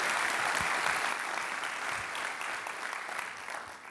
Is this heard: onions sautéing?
no